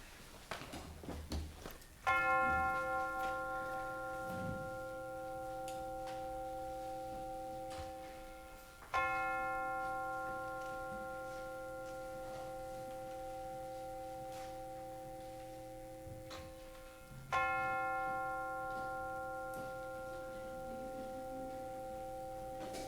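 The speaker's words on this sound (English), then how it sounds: "now let us center our hearts and minds with the ringing of the bell." A bell rung to open a church service sounds three separate strikes several seconds apart, each a clear tone left to ring out in a long, fading hum in a quiet room.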